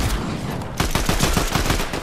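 Rapid bursts of gunfire in a Fortnite Zero Build match, loud and close, with dense overlapping shots that intensify after the first second and continue steadily without talk.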